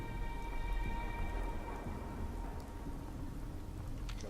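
Steady rain with a low rumble of thunder in the video game Fallout 4, a faint, continuous wash of rainfall with a deeper roll underneath and no talking.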